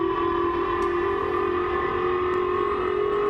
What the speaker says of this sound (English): Sirens blared across northern Japan